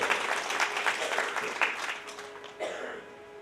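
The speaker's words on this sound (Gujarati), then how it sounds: "તેને પણ એકવાર જોરદાર તાળીઓથી વધાવો." A crowd at a Shrimad Bhagwat Katha religious discourse in Gir, India, claps steadily, a dense patter of applause that gradually fades, with a brief swell near the end.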